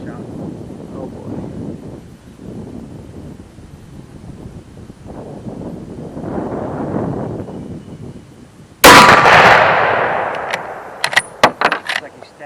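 A single loud, sharp 8mm Mauser rifle shot fired with iron sights cracks out at target practice, followed by a few fainter clicks, after a stretch of people talking.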